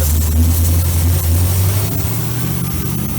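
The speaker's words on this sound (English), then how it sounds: "Now it revs up." A car engine with a big vacuum leak revs up, a loud close rumble that rises and holds, with a steady low drone.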